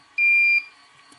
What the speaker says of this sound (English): you'll hear an audible confirmation beep that the setting has been saved to memory